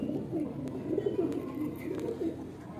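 Pigeons in a loft of low-flyer tournament birds give soft, low cooing in repeated rolling phrases, steady and moderately close against a faint background murmur.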